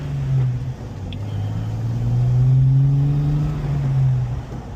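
Banks-turbocharged 2003 Jeep Wrangler Rubicon on the road, its engine droning steadily with a rising and falling low hum as it accelerates, close and continuous.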